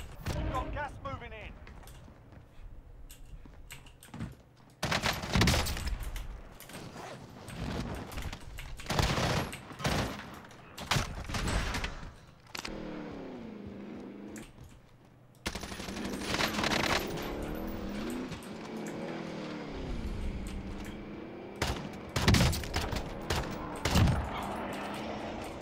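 Gunfire in Warzone, repeated loud bursts of automatic shots separated by short quieter gaps, with a voice talking between and over the shooting.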